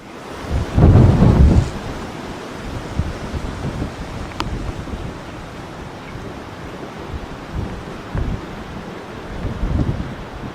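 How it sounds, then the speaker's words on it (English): Thunder from an approaching storm at Lake Balaton in Hungary: a loud rumbling crack early on, then lower grumbles over a continuous wash of wind noise. "now a storm is heading towards us"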